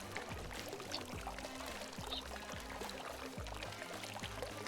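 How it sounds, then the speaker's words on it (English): Loud pouring water splashes steadily, a continuous rushing stream with repeated surges, heard alone without voices. "This water is very loud."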